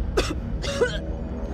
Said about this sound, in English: she's coughing a lot.